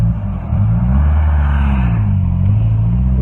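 A 1994 Mitsubishi Eclipse project car engine with a hunting idle that breaks up under boost, heard from inside the cabin as a loud, steady low drone with wavering pitch, running continuously with no voices.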